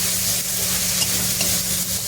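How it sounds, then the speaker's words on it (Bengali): Chopped tomatoes frying in a spice mix for a taro curry, a steady close sizzle with soft scraping of a spoon stirring through the pan, continuous and fairly loud with no talking. "টমেটো কুচি দিয়ে আবার নাড়তে হবে।"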